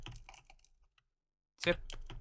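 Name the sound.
typing on a computer keyboard into the chat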